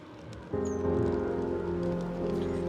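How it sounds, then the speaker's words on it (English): Rain taps steadily on skylight glass inside a room in the video game Cognition, a soft continuous patter that sits beneath sustained tonal background music. "The sound of the rain tapping on the glass fills the whole room."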